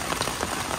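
A brief burst of steady rain patters on a surface, even and close with no voices.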